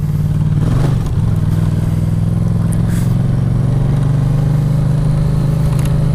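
A Yamaha Tracer motorcycle runs on an off-road test track, its engine a loud, steady mid-pitched drone with a brief surge near the start and faint clatter over rough ground.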